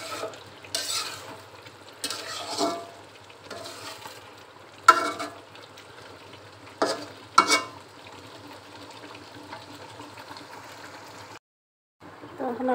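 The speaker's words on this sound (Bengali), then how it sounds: "এখন আমি মাছের ডিম আর আলুগুলো একবারে দিয়ে দেব, দিয়ে 5-7 মিনিট সুন্দরভাবে কষিয়ে নেব" Fish roe and potatoes stir-frying in a spiced gravy give a soft, low sizzle, broken by intermittent scraping stirs of a spoon in the pan, then a brief silence near the end, with no voices.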